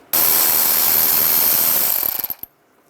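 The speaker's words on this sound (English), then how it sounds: "And through this area right here, use a 7mm socket." A 7mm socket ratchet clicks steadily while backing out a screw near the bumper of a 2010-2017 Chevy Equinox, loud and close for about two seconds, ending in a few separate clicks.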